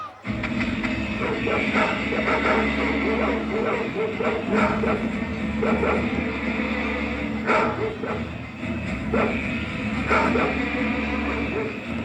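Several dogs bark in repeated bursts over a constant low rumble, with loud barks breaking through at irregular intervals.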